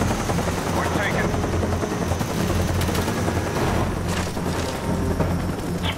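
A Cobra attack helicopter arrives in Call of Duty: Black Ops multiplayer as a steady rotor drone under bursts of gunfire from the match.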